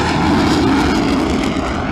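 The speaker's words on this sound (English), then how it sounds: "Twin reheated RB199 engines in full cry at the moment, but still not as noisy as the Harrier." A Royal Air Force Tornado swing-wing jet takes off on twin reheated RB199 engines during an air display, a loud, continuous, broadband roar.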